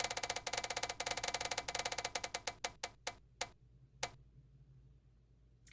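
A spun TBR prize wheel clicks rapidly against its pointer, the ticks steadily spacing out and slowing to a few last separated clicks before stopping, close and fairly quiet.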